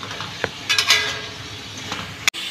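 Green chillies being stirred and cooked in a pan, a low sizzle under scattered scraping and clinks of a utensil against metal, close, with one sharp knock near the end.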